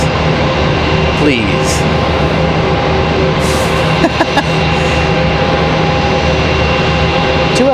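An airliner arrives at Raleigh Durham airport with a steady loud jet engine roar and a constant hum throughout, while a person talks over it.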